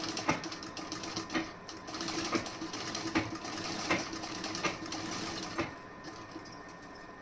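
An electric sewing machine stitches a plain blouse in a rapid, steady mechanical patter, close and continuous with faint periodic knocks, running alone without talk.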